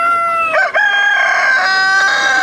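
A Brahma cross rooster crows once, loud and close, in a long drawn-out call with a brief break in the middle and no talking over it.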